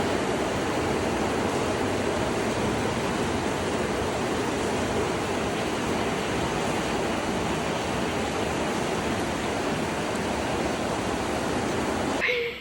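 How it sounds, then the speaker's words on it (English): Torrential monsoon rain pours steadily and loudly during a downpour that floods a house, a dense unbroken roar of water lasting the whole stretch. "we got a torrential downpour the other day and the house just started flooding"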